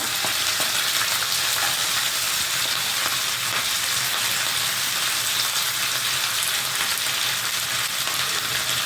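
Soaked moong dal fries in a hot pan, giving a steady, dense crackling sizzle that fills the whole clip at close range with no talking.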